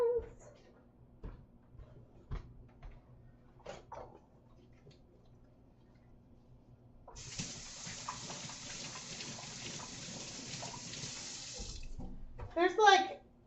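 A tap runs steadily into a sink for about five seconds while hands are washed, after a stretch of faint clicks and handling noise, with a brief louder burst at the end.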